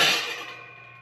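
Brass metal dishes from a thrift store tip over inside a box, giving a single close, bright clatter that rings briefly and fades away within a second.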